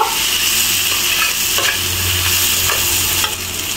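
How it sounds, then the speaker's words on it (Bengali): Fried hilsa fish head stirred into sizzling spice paste in a pan: loud, continuous frying sizzle with scraping stir strokes, close up, no talking. "এই পর্যায়ে আগে থেকে ভেজে রাখা ইলিশ মাছের মাথাটা দিয়ে দিব। মশলার সঙ্গে মাথাটা মিশিয়ে নিব।"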